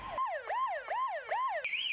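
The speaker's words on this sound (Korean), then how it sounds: "차량이 반대 방향으로 진입하면 센서가 이를 감지해 사이렌을 울리고" An electronic warning siren from a wrong-way entry detection system at a highway interchange wails in four rapid rising-and-falling sweeps, then jumps to a higher pitch. It is loud and close with no talking.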